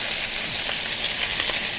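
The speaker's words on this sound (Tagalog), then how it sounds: "Sinama ko na yung baka. Tapos, lagyan na natin yung sibuyas." Beef and onions sizzle steadily in a hot pan while bistek cooks, a dense, even frying hiss with a few soft stirring taps and no voices.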